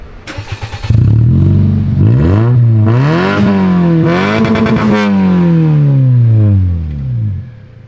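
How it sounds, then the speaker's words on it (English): Cold-started JDM Toyota engine with its muffler cut off catches after a brief cranking stutter, then revs repeatedly in loud, rising and falling sweeps before settling back toward idle, close by with no talk. "Here, cold start for the boys."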